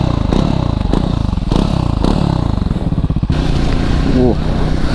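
A Triumph Scrambler 400 X single-cylinder motorcycle on a dirt trail, its engine loud and close, chugging and revving unevenly while the chassis clatters and gravel scrapes beneath.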